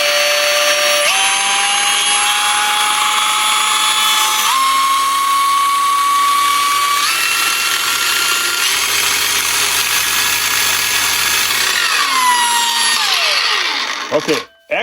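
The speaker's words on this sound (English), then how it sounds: "You can hear how it sounds." A Hercules 20v cordless surface conditioning tool runs continuously close by, a loud high-pitched whine that steps up in speed several times, then winds down and stops at the end.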